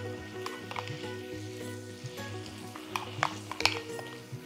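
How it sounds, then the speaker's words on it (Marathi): Green masala paste sautés in ghee with a low, steady sizzle, broken by a few sharp scrapes and taps of a spoon stirring in the pan; fairly quiet and close, no talk. "छान परतून घेऊया त्याच्यात आपण तुपामध्ये हिरवा मसाला"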